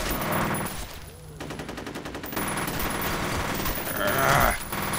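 Rapid automatic gunfire from enemies in a shooter video game rattles on steadily at close range, mixed with game effects and a dense layered soundscape and no clear talk.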